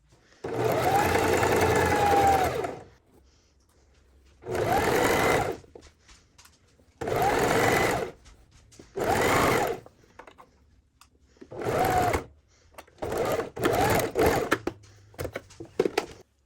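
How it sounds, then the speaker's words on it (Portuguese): A sewing machine stitches a pajama top in several close, loud bursts of rapid mechanical whirring, each lasting a second or two, separated by short quiet pauses. "Vou passar a costurinha aqui"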